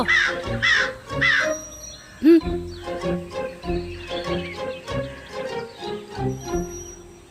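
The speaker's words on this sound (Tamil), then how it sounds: "காக்கைங்களோட தொந்தரவு தாங்க முடியல" Crows caw close by, a quick series of harsh calls at the start followed by more scattered caws, with rustling and a brief loud knock in between.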